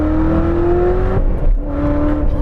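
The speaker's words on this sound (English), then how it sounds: "Second gear, roll on the throttle, it's a little damp." A 2019 Chevrolet Corvette ZR1 accelerates hard in second gear on a slightly damp road, its engine note climbing steadily, dipping briefly at a shift, then rising again, loud and close throughout.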